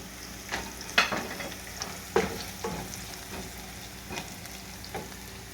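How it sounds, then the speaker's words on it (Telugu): Onions sizzling in a pan with fennel seeds added for an Andhra-style crab masala curry, a steady low crackle broken by several sharp stirring scrapes and clatters, close and fairly quiet, with no talking. "ఆనియన్స్ బాగా ఫ్రై అయిన తర్వాత కొంచెం సోంపు వేసుకోవాలి."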